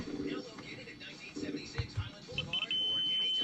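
A multimeter continuity beeper tests the failing switch of a US General Magnetic heavy-duty 5-outlet, 2-USB power strip. A few quick high chirps give way to a steady, piercing tone that holds to the end over light handling noise.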